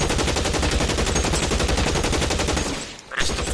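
Sustained automatic gunfire in the video game LA Noire rattles on for about three seconds, dense and loud, then cuts out briefly before a final shot.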